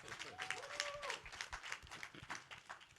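Dense crowd applause with a few whistle-like tones early on, steady and moderately loud throughout.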